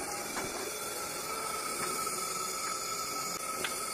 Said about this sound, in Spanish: ahorita que agarre lo calientito del aceite, aparte la estamos friendo a fuego lento